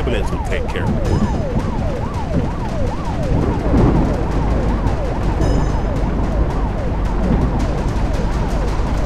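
A wailing ambulance siren sweeping up and down repeatedly in a truck driving video game, loud and continuous over the rumble of the truck's engine.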